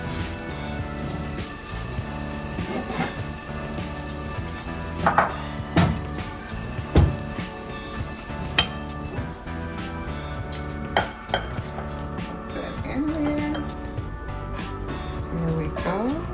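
Pots, pans and utensils clink and scrape as sautéed zucchini and yellow squash are served into a dish on a home stove, several sharp clinks standing out over a steady kitchen background, with a person talking throughout.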